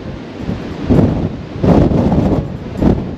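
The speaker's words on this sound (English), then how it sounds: "it's pretty windy out here." Strong wind on the bridge deck of the cruise ship Diamond Princess buffets the microphone in heavy gusts, a rough low roar that swells and fades several times.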